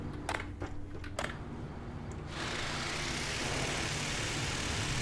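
An aircraft engine in the TerraTech video game, a broad roaring drone that swells sharply partway through and then holds loud and steady, preceded by a few brief clicks.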